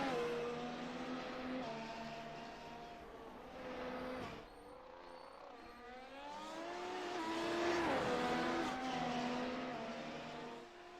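F1 race cars from a racing video game lapping the Barcelona-Catalunya circuit, engines whining and shifting through gears, rising and falling as cars pass, steady and fairly loud with no talk.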